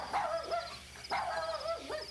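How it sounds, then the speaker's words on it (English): A small dog yaps in high-pitched bursts, three quick, close, clear barks with short pauses between them and no other sound. "this little dog has a high-pitched voice"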